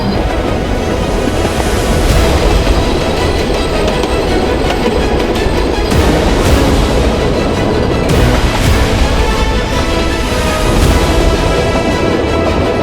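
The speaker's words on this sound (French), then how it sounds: "c'est l'un des trains à vapeur les plus emblématiques d'Australie" The Puffing Billy steam train in Victoria, Australia rumbles steadily along the rails with loud, continuous roaring and periodic clattering bursts, heard up close with no voices.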